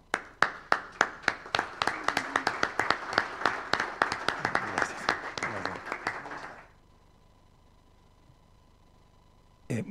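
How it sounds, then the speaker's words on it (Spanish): Audience at the Patagonian Parliament session claps loudly with sharp, dense hand claps for about six and a half seconds, then the applause stops abruptly, leaving a quiet room hum. "Gracias por el aplauso."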